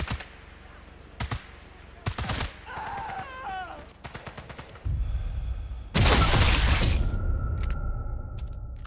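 Gunfire in Sniper Elite 5: several sharp shots in quick bursts, then a long loud burst of noise near the end, with game effects in between and no talk.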